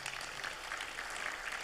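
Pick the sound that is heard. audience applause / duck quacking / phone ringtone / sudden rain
audience applause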